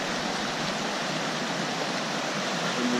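A mountain creek rushes at a trail crossing on the Colorado Trail, a steady, dense hiss of flowing water throughout, with no talking.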